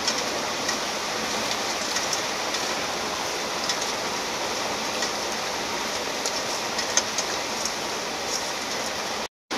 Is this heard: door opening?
no